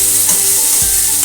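Chopped onions fry in a pan with a loud, close, continuous hiss and crackle, and a couple of low stirring scrapes pass underneath.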